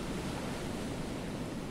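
Steady broadband wash of ocean surf on a beach in the survival game Stranded Deep, a continuous rushing roar with no distinct breaks, fairly loud and alone without speech.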